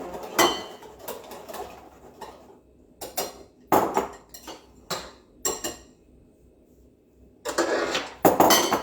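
A spoon mixes a teaspoon of pesto into a savoury filling in a bowl, producing bursts of clinking and scraping that come in uneven clusters with short quiet gaps between them.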